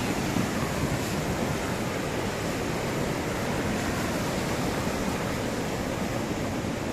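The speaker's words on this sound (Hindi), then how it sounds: "उबान मार रहा है अभी भी पानी।" Floodwater still surging after a disaster in Maldevta, Uttarakhand, a steady loud rushing roar of churning water that continues unbroken throughout, with no voices heard.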